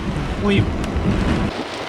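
Heavy rain and strong wind roar steadily through a severe thunderstorm with 80-mph winds in a June 2024 tornado outbreak, close and loud, with a person voicing briefly under the storm noise.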